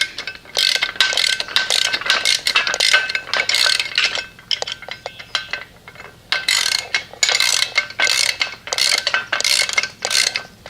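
A ratchet wrench snugs a bolt on a Jungle Jims mower lift during assembly: rapid bursts of close metallic clicking in repeated strokes with short pauses between, loud and without talk.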